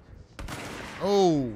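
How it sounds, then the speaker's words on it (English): Gunfire in the action video game Control: a brief burst of shots rings out, followed by a loud exclaimed voice. "Who is shooting?"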